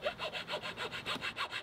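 Hand sawing through a wooden box to open ventilation slots, a quick even back-and-forth rasp of about ten strokes, close and fairly quiet, with no talk.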